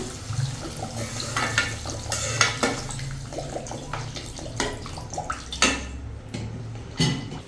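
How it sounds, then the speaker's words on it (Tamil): Water splashes and pours into a metal pan, with scattered clinks and drips over a continuous running, sloshing sound. "இப்போ தண்ணி ஊற்றிக்கிறேன்"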